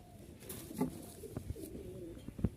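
A pigeon coos softly in low, rolling calls, several in a row, fairly faint against a quiet background.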